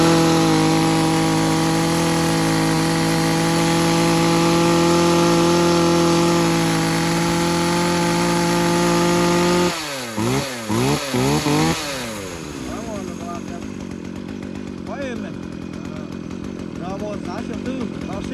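A Makita chainsaw engine runs at a loud, steady idle on a test start, then gives a few short revving bursts and cuts out, leaving quieter background noise.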